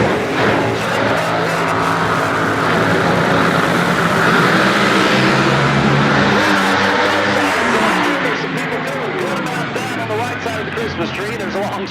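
Funny car drag racers at Great Lakes Dragaway rumble and rev as they creep up to the start line, a loud, dense engine roar that eases toward the end beneath an announcer's commentary.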